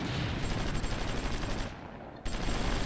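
Rapid gunfire and artillery rattle in a war strategy game, dense continuous bursts with a brief dip near the end before the firing resumes, loud and without talk.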